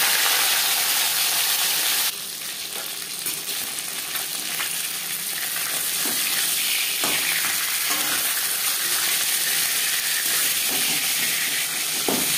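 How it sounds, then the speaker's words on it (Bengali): Bhetki fish fries in hot refined oil in a pan, giving a loud, continuous, hissing sizzle that stays steady throughout with occasional small crackles and no talking. "একটা সাইড ভাজা হয়ে গেলে অপর সাইডটা উল্টে দেবো।"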